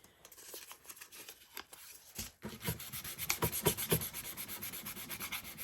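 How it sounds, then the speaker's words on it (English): Hand sanding of wooden steps, with steady rubbing and scraping strokes that start softly and grow louder and busier partway through, close by with no voices. "So I think I'm going to sand these two steps a little more."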